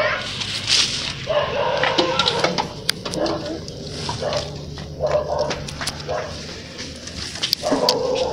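Puppies, a female and a male, yip, bark and whimper nearby in short bursts, mixed with rustling and someone talking softly.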